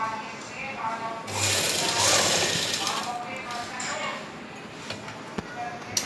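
A sewing machine stitches trousers in a rapid burst of mechanical whirring that rises and then eases into lighter clicks, close by, with talk around it.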